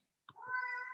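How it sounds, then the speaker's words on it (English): A pet cat gives one short, close meow that rises and holds briefly, clear against a silent background. "And my cat saying hi"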